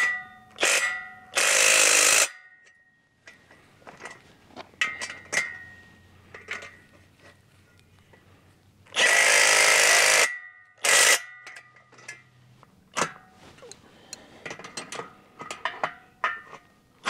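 An impact driver tightens bolts on a DIY automatic sun-tracking solar mount, two loud hammering bursts of about a second each, several seconds apart, with scattered clanks and handling noises between them.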